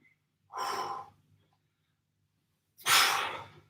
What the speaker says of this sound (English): big deep breath